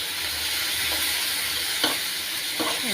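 Beef sizzling loudly in a pan while being stirred, a dense continuous frying hiss close by with a few scraping strokes of the spatula breaking through, no voices.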